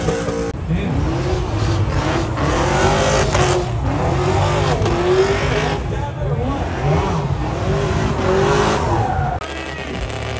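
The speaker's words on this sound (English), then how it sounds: "We're ready to do some burnouts now." A car doing burnouts at a Cleetus and Cars event, its engine revving hard in loud rising and falling sweeps with tire squeal running through it, while crowd noise and shouting carry underneath.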